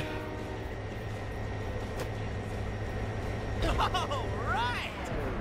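A train in the video game Sunset Overdrive runs with a steady, continuous rumble throughout, and a voice briefly cuts in near the end.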